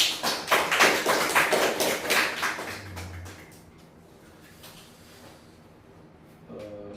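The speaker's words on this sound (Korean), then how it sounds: "박수" Audience applause at an artist talk session in a gallery, a burst of many hands clapping fairly loud at the start, then thinning out and fading to quiet room tone within a few seconds.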